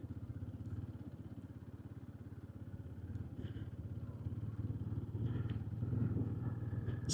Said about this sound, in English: Super slippery driving on the sand. Go nice and slow.